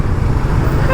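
A newly fitted horn on a Bajaj Pulsar NS200 motorcycle gives a loud, sustained honk lasting just under a second, steady and close, with a dense low buzzing tone and no talk.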